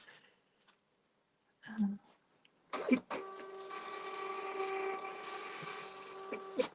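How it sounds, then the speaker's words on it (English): A label printer runs steadily for several seconds printing shipping labels with a smooth whirring feed, preceded by a few quiet clicks and a brief rustle in a quiet room. "I did finally get like a real printer, a real label maker, which is so much better than the old printer."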